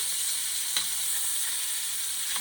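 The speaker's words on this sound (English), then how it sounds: "I just want to get a good sear." A sirloin tip roast sears in a hot pan with a steady, dense sizzle and faint crackles throughout, close and continuous with no voices.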